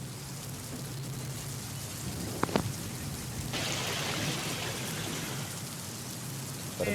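Heavy rain falls on farmland in Yeola taluka, a steady hiss of drops lasting several seconds. A brief knock sounds partway through, then the downpour grows slightly louder and brighter.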